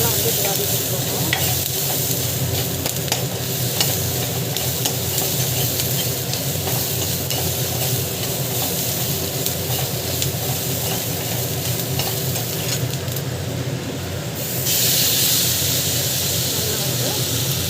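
Pulicha keerai (gongura) leaves sauté in a pan with a continuous soft sizzle and occasional stirring scrapes, close and steady under the cook's voice.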